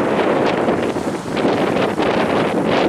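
Strong wind buffets an outdoor microphone in a steady, loud roar with gusting swells throughout, blowing across a pizza being tasted outside.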